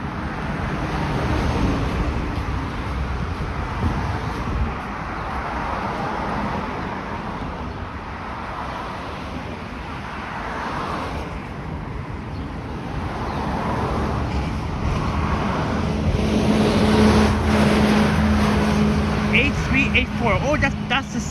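A 98 Willowdale city bus passes along a street in Toronto. Its engine rumble swells and fades amid steady traffic noise, and someone talks over it.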